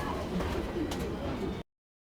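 Racing pigeons in a dirty, uncleaned loft coo and murmur continuously at close range, a steady low burbling that cuts off abruptly.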